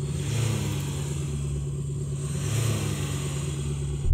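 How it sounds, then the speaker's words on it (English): Mercedes Vito van engine revving at traffic lights, a steady mid-pitched drone with a slight rise in intensity, heard close and alone without any talk. "let you hear what a true van sounds like when it's at the traffic lights revving away trying to frighten you"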